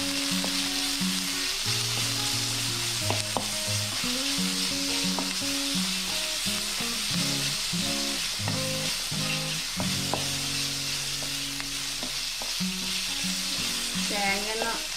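Onion sautés in a pan for a Kerala anchovy curry, a constant close sizzle with occasional stirring under background music.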